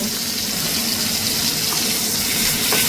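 Salt-and-turmeric-coated folui fish pieces fry lightly in hot oil with a continuous, fairly loud hissing sizzle.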